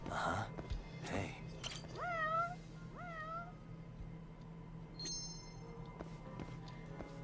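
Cats meow in the video game Judgment: two clear rising meows near the middle, followed by a fainter higher mew, over a steady low game ambience hum with no talking.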